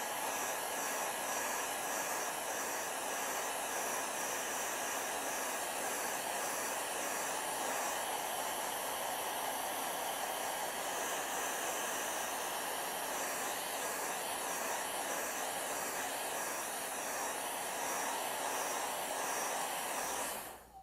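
A hair dryer blows steadily on a wet painting, a loud, continuous broadband whoosh with a faint whine that holds unchanged for about twenty seconds and cuts off abruptly at the end.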